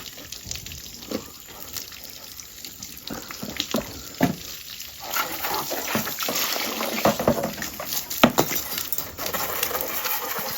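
Water runs steadily from a tap or hose while a motorcycle is washed at home in a village, a constant splashing hiss broken by sharper spatters and clatter, close and fairly loud.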